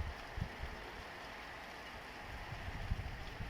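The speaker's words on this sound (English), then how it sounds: "it's raining" Steady rain falls outside on a mild, dark day, a soft continuous hiss with occasional low thumps of drops, fairly distant and unbroken.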